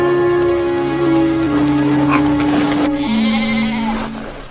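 Close, loud sheep bleating, one long wavering bleat held for several seconds that shifts pitch partway through.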